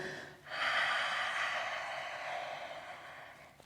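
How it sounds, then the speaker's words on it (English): Big exhalation through an open mouth during a vinyasa yoga flow in down dog, a long, breathy, close whoosh of air fading out over a few seconds, with no talking. "take a big inhalation, open your mouth and exhale"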